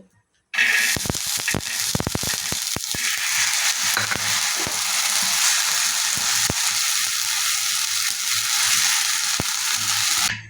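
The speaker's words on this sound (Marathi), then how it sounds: "आता आपण जे तुरीचे दाणे घेतले होते ते भाजून घेऊ." Green pigeon pea kernels roast on a hot tava, starting with a burst of crackling sizzle and sharp popping ticks, then settling into a steady close hiss with scattered pops.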